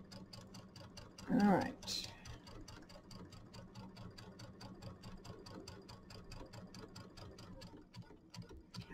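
A sewing machine quilting with monofilament thread runs quietly with a steady, rapid ticking rhythm throughout, while a person briefly speaks over it near the start.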